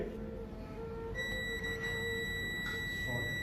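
A multimeter on continuity mode gives a steady high-pitched beep while a line is tested against ground on a Samsung phone AMOLED display circuit; the tone starts about a third of the way in and holds, over faint background hum.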